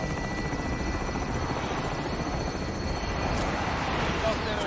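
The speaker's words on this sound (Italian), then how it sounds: "Elicottero in posizione per il deposito" A military helicopter in Call of Duty: Modern Warfare thrums steadily and loudly throughout, a dense continuous rotor roar that fills the scene without a break.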